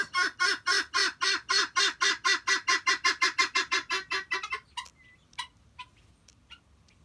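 Chickens in a coop give a fast, steady run of evenly paced clucks that sound close and loud, then trail off into a few scattered, fainter clucks and rustles.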